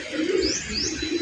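Pigeons coo softly inside a loft, low murmuring calls mixed with a couple of faint higher chirps, steady and close throughout.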